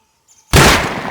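A single sharp bolt-action rifle shot, fired at a helmeted player in a video game, bursts out loud and close after near silence, with a short decaying tail.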